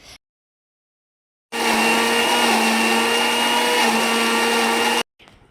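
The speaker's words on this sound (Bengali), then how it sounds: "এখানে আমি আদা রসুন পেঁয়াজ সব পেস্ট করে নিয়েছি মিক্সিতে" A mixer grinder runs loud and close for about three and a half seconds, grinding ginger, garlic and onion into a paste, with a steady high whine that starts and stops abruptly.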